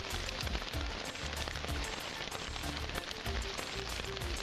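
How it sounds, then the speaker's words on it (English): Steady rain patters down in a dense, even wash in the Sairam Mountains, with scattered heavier drops ticking through the hiss; no voices. "It started raining in the middle of the day"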